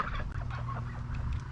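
Ducks by their newly built duck house give a brief burst of low, overlapping clucking and quacking calls, close and fairly soft, with no talking.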